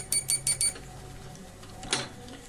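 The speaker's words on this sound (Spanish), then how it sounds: "Comprobamos que el polímetro suene." A multimeter set to continuity mode, tested while checking a water heater's bulb thermostat, gives four quick high-pitched electronic beeps in a row, then one more separate beep after a pause, close against low background hum.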